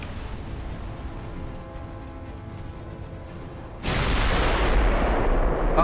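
Heavy battleship guns firing in the naval game Ultimate Admiral, a French battleship's twenty-inch main battery, burst in with a sudden loud blast that sustains into a rumbling roar after a quieter stretch of low droning.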